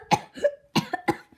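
Four or five short, harsh coughs come in an uneven burst, close up and loud, with no talking around them.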